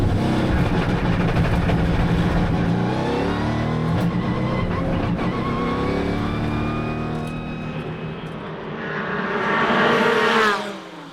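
GT race cars, including a Mercedes-AMG GT and a Porsche, roar past at Portugal's Algarve circuit, engines loud and close with shifting revs, fading briefly before another car surges nearer and passes.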